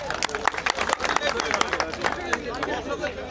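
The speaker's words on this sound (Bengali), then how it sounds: "এটা হাততালি হবে জুড়ে।" Scattered clapping and crowd chatter at a volleyball tournament final, loud and close, with people talking over it.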